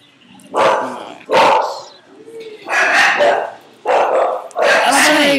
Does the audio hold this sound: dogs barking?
yes